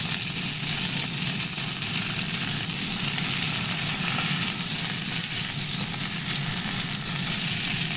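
Cod fillets sizzle steadily in a preheated, seasoned pan on medium heat just after being flipped, a dense, even frying hiss that carries on close up without any talk.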